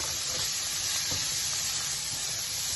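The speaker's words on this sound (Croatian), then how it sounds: "Sad ćemo malo ovu slaninicu da prvo prepržimo." Bacon frying in olive oil in a pan, a steady close sizzle with soft crackles running without a break and no talk.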